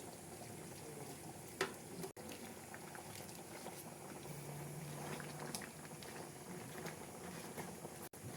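A sardine stew in coconut milk with fried eggplant and pechay simmers quietly in a pot, a faint steady bubbling with soft pops and clicks throughout.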